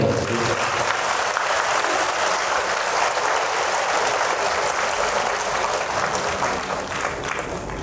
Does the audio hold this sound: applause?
yes